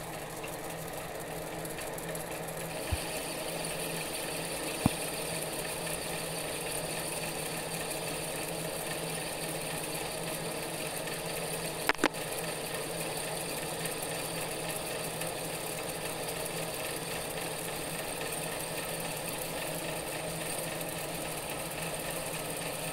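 A homemade mini lathe with an adapted pulley runs at its higher speed while cutting, producing a steady mechanical whir and hum with a few sharp clicks along the way.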